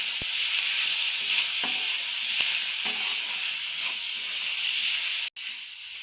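Vegetables fried in a pan with soy sauce, chili sauce and a little sugar sizzle and hiss steadily, with a few light taps of a spoon stirring, ending in a brief clatter.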